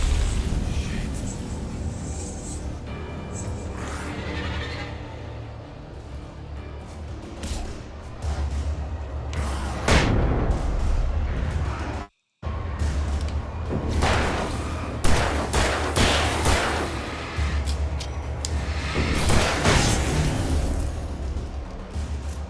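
Flashbang explosions and gunfire in the video game Alan Wake Remastered, repeated loud booms and bursts of shots over a low rumbling background, with a brief dropout midway.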